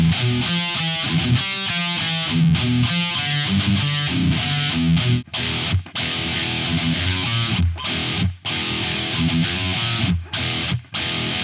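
A heavily distorted electric guitar with EQ applied plays metal chugging riffs and sustained chords, stopping briefly several times between phrases; no one speaks.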